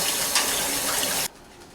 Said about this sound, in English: rinse with cold water, but not too long, and then drain it in a strainer